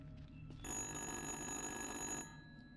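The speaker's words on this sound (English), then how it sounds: "It's ringing." A telephone in the horror video game Little Hope gives one sustained electronic ring lasting under two seconds. It is fairly faint and stands alone over a low ambient hum.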